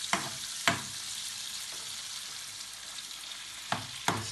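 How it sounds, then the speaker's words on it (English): Fish stock pours into a pan of cooking prawns, giving a steady bright sizzle broken by a few sharp clatters of stirring. "we'll gently add the fish stock"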